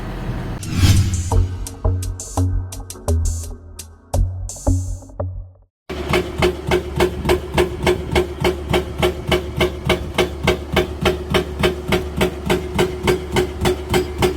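A Doosan Solar 500LC-V excavator-mounted rock drill idles, then a rapid, steady percussive hammering into mountain rock starts and keeps pounding in an even rhythm, loud and close.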